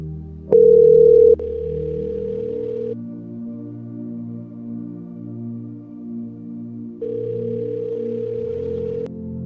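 A telephone call sounds a loud ringback tone at the start, followed by a quieter repeat, with a low background hum running between the rings.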